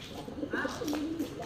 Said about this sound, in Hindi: सब उड़ गया कबूतर,